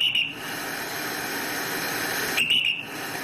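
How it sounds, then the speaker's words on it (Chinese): At a river swimming spot at Lakus Creek in Taoyuan, Kaohsiung, health officials blow a shrill whistle twice, once briefly at the start and again a few seconds later, over steady rushing water. "不少游客听到了卫生所人员的吹哨声"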